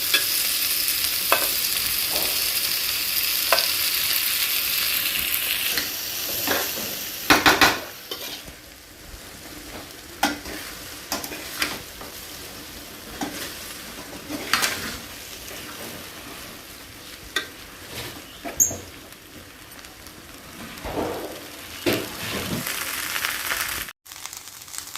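Rice and vegetables being stir-fried together for vegetable fried rice made from leftover morning rice, with a steady close sizzle and repeated scraping strokes of a spatula against the pan.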